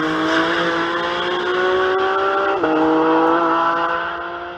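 A Porsche Cayman GT4 RS screams past at high revs on the Nürburgring, a loud sustained engine whine that shifts pitch sharply midway, then fades slightly.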